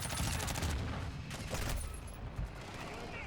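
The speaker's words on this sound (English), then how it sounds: "I'm working on the VTOL with an SMG" Rapid submachine-gun fire aimed at a VTOL aircraft in Call of Duty: Modern Warfare 2 on PC, a dense and loud stream of shots running steadily for several seconds with other battle noise mixed in.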